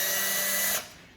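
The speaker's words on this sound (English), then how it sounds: "So let's do the drilling." A power drill bores a 3mm pilot hole into plasterboard for a self-drilling wall anchor, a steady high whine that stops abruptly, close and loud.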